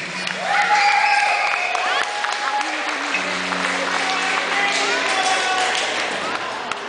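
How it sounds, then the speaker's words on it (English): Enthusiastic audience applause with cheering fills a youth summer festival crowd after a music performance in Mistissini, dense and sustained across the clip, with other crowd sounds and possible voices mixed in. "Let's give a round of applause."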